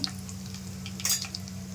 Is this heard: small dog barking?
no